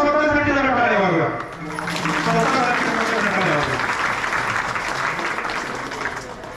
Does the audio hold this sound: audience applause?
yes